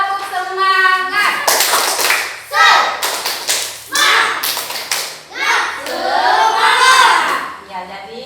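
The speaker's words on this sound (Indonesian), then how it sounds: "Jadi kita tepuk semangat dulu." Schoolchildren in a morning classroom perform a rhythmic spirit clap, bursts of sharp group hand claps in a patterned sequence, loud and close, mixed with children's chanting voices.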